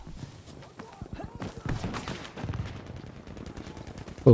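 Rapid bursts of sniper and other gunfire in the video game Battlefield V crackle throughout, overlapping with someone talking, ending in a louder blast.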